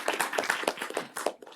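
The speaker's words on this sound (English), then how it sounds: "let's all give him a round of applause" A small seminar audience welcomes a robotics speaker with sparse clapping, individual hand claps clearly separated in a loose irregular rhythm, close and moderately loud, thinning out at the end.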